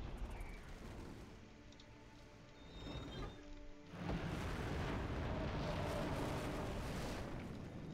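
Artillery barrage in the Axis & Allies video game, with scattered booms and rumbling blasts that swell into a loud, sustained roar of explosions during the second half, fairly close and dense.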